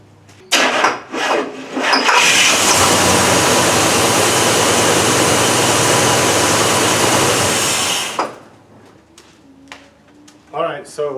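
A 1968 Cadillac Deville V8 with a swapped carburetor cranks briefly, then fires and roars loudly at a steady high idle for about six seconds before cutting off, followed by quieter clicks and handling noises.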